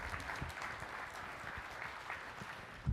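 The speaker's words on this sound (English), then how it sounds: "Extra applause for Rick" Audience applause for Rick at a business technology talk on the Internet of Things: continuous, even clapping from a crowd, soft and somewhat distant, with a louder thump at the very end.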